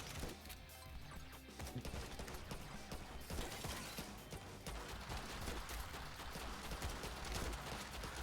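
An auto turret in a zombie survivors game fires rapid, dense mechanical bursts, with clattering shots and impacts layered over game music, steady and busy throughout at a moderate level.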